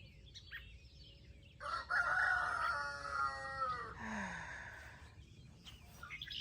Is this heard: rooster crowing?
yes